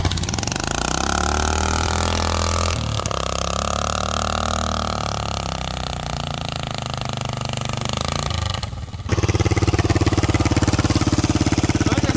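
A Dynamark racing lawn mower engine runs loud and close, a rough, steady mid-pitched drone that dips briefly near the end before surging back stronger.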